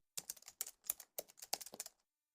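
Quick tapping on a phone keyboard while entering a search in the Chrome browser, a crisp run of about a dozen close clicks in short bursts, alone and quiet.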